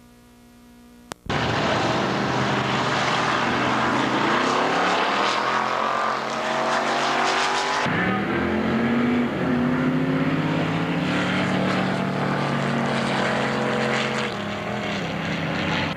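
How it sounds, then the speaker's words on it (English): A blue Camaro drag racing car roars off the line against a rival on a drag strip, a loud, continuous engine howl from start to finish, with a sudden shift in pitch midway through the run. "Ricky Johnson's Bad Boy Blue Camaro stages with Jeff Townsend for the next race"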